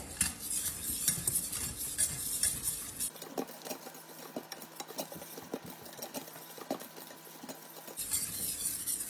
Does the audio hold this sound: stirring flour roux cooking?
yes